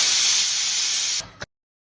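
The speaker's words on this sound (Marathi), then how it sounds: "कुकरच्या 3 शिट्ट्या होऊन द्यायच्या" A pressure cooker steaming pumpkin releases a loud, close hiss of steam that holds steadily for about a second, then cuts off with a brief final puff and silence.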